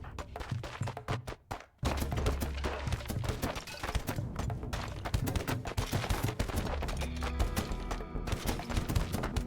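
Turrets in Rimworld fire in rapid, sustained volleys, a dense rattle of sharp shots running almost continuously after a brief sparse start, loud and close.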